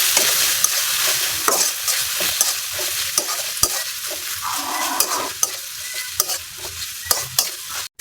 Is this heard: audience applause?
no